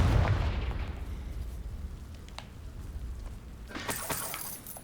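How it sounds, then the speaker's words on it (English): Confringo fire spell cast in Hogwarts Legacy, a burst of explosive crackle and debris at the start fading into a rumbling tail, then a bright shattering flare near the end. "Confringo."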